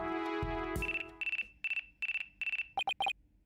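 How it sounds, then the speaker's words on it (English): A phone ringtone from the Apollo Justice: Ace Attorney Trilogy video game opens with a short chime, then repeats a string of bright electronic beeps in a steady pattern, ending in quicker double pulses, clear and alone. "Looks like I have a phone call."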